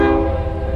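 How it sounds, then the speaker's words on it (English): A train horn blares loud and close, a sustained tonal blast over the rumble of a passing train. "But here's your train."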